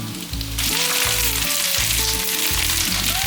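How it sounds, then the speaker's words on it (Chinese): Vegetables hit a hot wok over high heat, bursting into a loud, close sizzle that holds steady, with a few clanks of stirring under it. "大火炒一炒后，"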